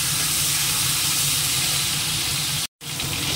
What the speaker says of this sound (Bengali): আগে মাথাটা দিয়ে একটু ভেজে নিই